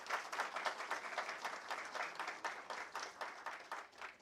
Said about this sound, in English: Please give a round of applause to Mr. Goel.